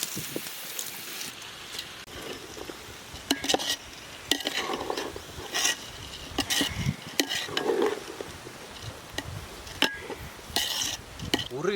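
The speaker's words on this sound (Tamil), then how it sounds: "இருபது நிமிஷம் ஊற வச்ச அரிசியை இதில் போட்டு நல்லா பிரட்டி எடுத்துருவோம்" Soaked rice stirred in a pot while cooking vegetable pulao in a village, with close, irregular scraping and clinking of a utensil against the metal pot over a faint sizzle.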